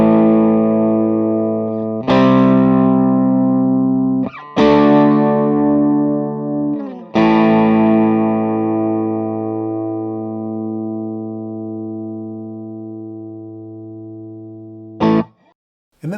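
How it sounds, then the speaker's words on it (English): A Fender Stratocaster through a Bad Cat amplifier with gain at the edge of breakup, EF86 and fat switch engaged, rings out sustained chords that are struck about four times and decay slowly, loud and close with no voices. "I've got the gain right at the edge of breakup at about 2"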